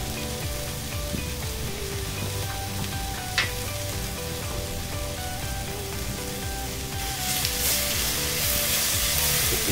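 Chopped garlic and pureed ginger sizzle steadily in a Dutch oven, a continuous close frying hiss that swells slightly near the end.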